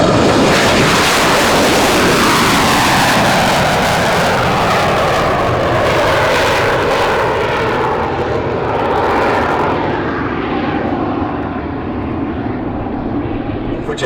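A Cessna A-37 Dragonfly attack jet flying past at an air show, a loud continuous engine roar that fills the clip and slowly shifts in pitch as it passes.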